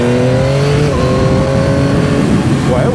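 Yamaha MT09 motorcycle with an automatic gearbox revving under throttle, the engine note climbing steadily in a loud, close whine while a rider speaks briefly over it.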